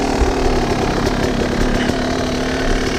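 A hard enduro dirt bike engine idles with a steady, loud, buzzing putter close by, holding an even note without revving.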